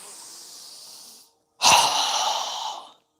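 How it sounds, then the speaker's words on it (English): Breath pushed out through the mouth during a yoga breathing exercise: a softer airy breath fades out, then after a short pause a loud, forceful rushing exhale follows and tapers off, close to the microphone with no talking. "exhale through our mouth with a strong exhale"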